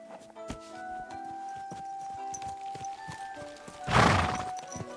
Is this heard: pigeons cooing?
no